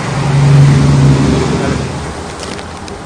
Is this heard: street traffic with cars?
yes